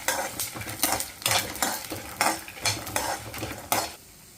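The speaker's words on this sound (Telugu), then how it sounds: "1 పావు స్పూన్ ధనియాలు కూడా వేసుకుందాం. కొంచెం దూరగా ఫ్రై అవ్వాలి." Cumin and coriander seeds dry-roasting in a pan while being stirred, with a rhythmic series of scraping, rattling strokes about every half second, close and moderately loud, then falling quiet at the end.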